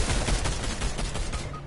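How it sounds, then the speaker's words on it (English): Dense, rapid bursts of video game gunfire crackle continuously, a loud overlapping barrage of shots with no voices. "I just hear gunshots"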